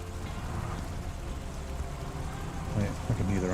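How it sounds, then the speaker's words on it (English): Nighttime rain in the truck-driving game SpinTires, a steady hiss of falling rain with patter on surfaces, continuous and moderately quiet, with a low engine-like drone and a few brighter sounds toward the end. "Oh yeah, I can hear the rain now."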